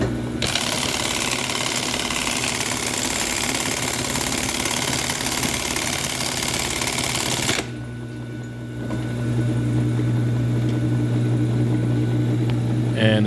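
A Singer class 68 sewing machine with a regular bobbin stitches through two layers, its motor and needle running in a steady, loud mechanical whir that dips briefly before resuming.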